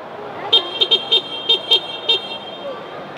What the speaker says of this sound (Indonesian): Sekarang kita dengerin klaksonnya.